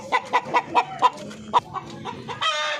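Darag native chickens kept in Nueva Ecija cluck loudly nearby, six evenly spaced clucks followed by softer chatter, with a harsher crowing-like call rising at the end.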